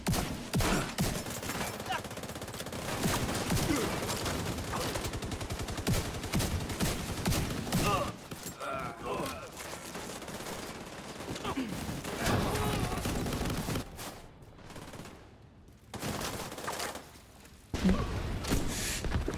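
Heavy gunfire and explosive thumps in a video game battle, with artillery fire as bursts of shots and booms in dense clusters, broken by brief lulls and a near-silent gap before the barrage resumes.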